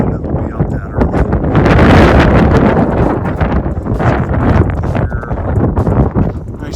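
Strong, blustery wind on the Pacific Crest Trail between Tehachapi and Kennedy Meadows South buffets the microphone in loud, rumbling gusts throughout.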